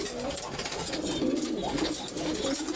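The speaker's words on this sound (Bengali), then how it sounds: "এই কবুতর হচ্ছে, কেউ বলে হাইফিলার, কেউ বলে ম্যাকপাই" High flier or magpie pigeons coo in low, repeated throaty rolls throughout, fairly close and continuous.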